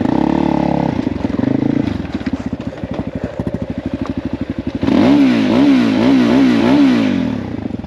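A Honda CRF Crossfire motorcycle climbs a rough uphill road, its engine loud and close with rapid pulsing revs, then surges into harder wavering revving over the last few seconds.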